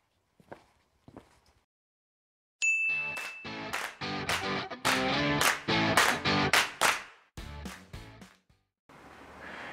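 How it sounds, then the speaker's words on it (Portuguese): A channel intro jingle bursts in after a couple of quiet seconds with a bright ding, then runs as a loud sequence of punchy rhythmic musical hits and short stabs before a brief noisy tail. "Roda essa vinheta."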